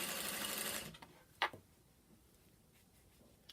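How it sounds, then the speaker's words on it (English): A sewing machine runs a brief, fast stitching burst on fabric for welt cord, then stops, leaving a few quiet clicks and handling taps in a hushed room. "I use a 1/2 inch as I'm sewing"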